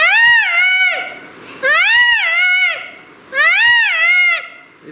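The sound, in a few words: man imitating wild dog (dhole) call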